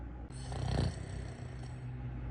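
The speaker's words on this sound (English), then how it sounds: "Baby, you're snoring again." A person snores close by, one long rasping breath with a rattling swell that fades, heard alone without talk.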